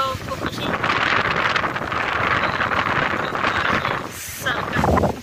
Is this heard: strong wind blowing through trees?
yes